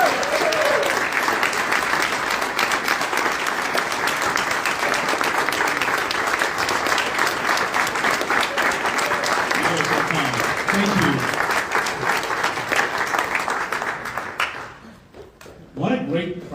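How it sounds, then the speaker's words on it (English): Sustained applause from a live audience at a Texas GOP event, dense steady clapping for a speaker that runs loud for about fourteen seconds, then fades, with faint voices emerging near the end. "Let's give him a round of applause."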